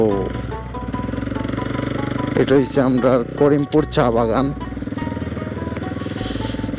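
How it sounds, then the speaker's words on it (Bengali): A motorbike rides along a road through a tea garden, its engine a steady close drone throughout while someone talks over it in the middle. "বাগানোর রোড দিয়ে আসলে বাইক চালাইতে খুবই মজা লাগে"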